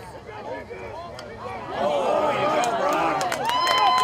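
A crowd at a high school lacrosse game between Columbine and Mullen swells into cheering and clapping after a defensive check, a broad rising roar beneath a commentator's talk.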